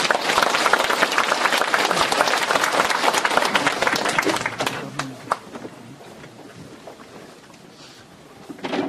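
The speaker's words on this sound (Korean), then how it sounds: "큰 박수 부탁드립니다" An audience at a lecture forum applauds to welcome a speaker, loud dense clapping that thins out and dies away partway through, leaving faint scattered claps and room noise.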